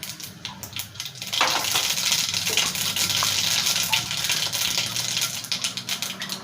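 Mustard seeds crackle and pop in hot oil in a pan for a Tamil plantain stem stir-fry, a dense sizzling hiss that swells after the first second and keeps up steadily, alone with no talking.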